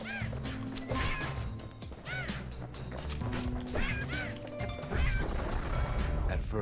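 Birds squawk and are struck down in the action game Bastion, with repeated quacking, honking cries and sharp hit sounds over a busy, loud music score throughout.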